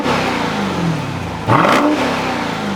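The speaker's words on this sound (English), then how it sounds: "a dual exhaust to hear the sweet sound of your Hellcat engine" 2021 Dodge Durango SRT Hellcat engine revving through its dual exhaust, a steady mid-pitched drone that jumps into a brief sharp rev burst midway, then settles back, close and alone.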